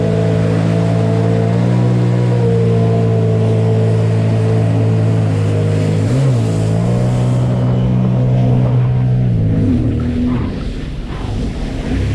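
A Sea-Doo Trixx personal watercraft runs on the water with a loud, close, steady engine drone that dips briefly and then holds its pitch, with wind and water noise underneath before it fades slightly at the end.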